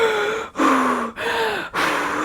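A person imitates a woman in labor breathing heavily: four loud, close, strained gasping breaths in a steady rhythm, each separated by a brief pause.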